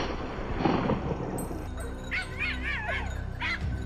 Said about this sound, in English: The barking grew louder.